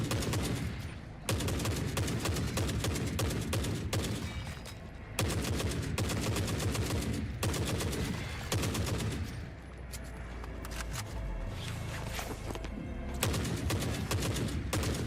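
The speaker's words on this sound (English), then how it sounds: "It feels terrifying, but terrifyingly cool to get shot at by artillery in that game." Dense battlefield gunfire and booming blasts from the World War II shooter Hell Let Loose, a continuous loud barrage of overlapping shots with brief lulls, no talking.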